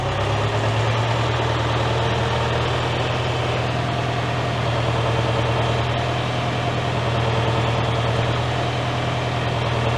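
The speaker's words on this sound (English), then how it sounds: "I can hear the engine bogging down when I push it all the way into select" David Brown tractor diesel engine running under hydraulic load while bogging down, a loud, steady low rumble with constant vibration and no voices.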